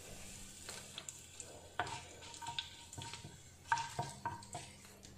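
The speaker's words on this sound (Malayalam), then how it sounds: "എണ്ണ ചൂടായി കഴിയുമ്പോൾ അതിലേക്ക് കടുക് ഇട്ട് കൊടുക്കാം." Mustard seeds, fenugreek and cut dried chillies frying in hot coconut oil, a soft continuous sizzle with scattered pops and a few light clinks of stirring, fairly quiet and close.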